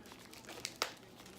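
Quiet crinkling of packaging as a small mailed box of makeup products is opened, with a couple of sharp crinkles close by and no talking.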